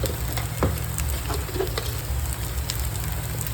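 Spiced masala of turmeric, coriander-cumin powder and garam masala frying in butter with fried onion and tomato gives a steady close sizzle, with a few scraping strokes as it is stirred in the pan and no voices.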